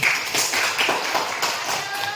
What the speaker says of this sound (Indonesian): berikan tepuk tangan dulu Putri.